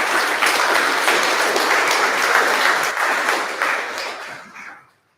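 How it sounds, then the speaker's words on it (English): Applause from the crowd at a junior cricket club awards night, a steady dense clapping that holds for about four seconds before tapering off and fading to silence. "I'll give them a clap."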